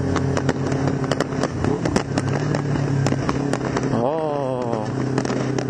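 Fireworks explode in sharp repeated cracks and pops over a steady road and engine drone from a moving car, with a rising engine whine near the end.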